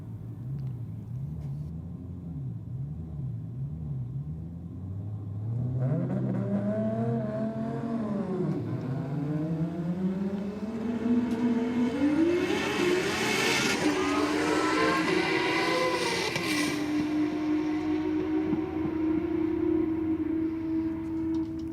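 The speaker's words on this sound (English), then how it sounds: "As they line up next to each other through the tree, get the green, take off" Race cars at a roll racing event revving and accelerating hard side by side, engines rising in pitch through successive gear changes into a loud, sustained roar, then holding a steady high drone as they pull away, with no talk over it.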